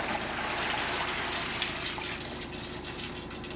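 Water and acorns poured out of a pot, a steady continuous splashing gush that stays loud and close throughout, with no talking.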